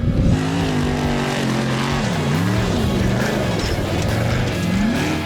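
A trophy truck starts a desert lap, its engine revving loud and close, pitch rising and dipping through gear changes over a gritty roar of tires on dirt.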